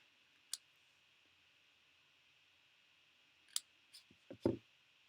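Scissors cutting a strip of white cardstock for a spring tulip treat holder: a single crisp click, a pause, then a short cluster of snips and a louder final cut, close and quiet with no talk.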